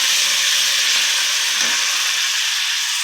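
Coriander leaves frying with chana dal, urad dal and green chillies in hot oil, a loud continuous close-up sizzle with no break.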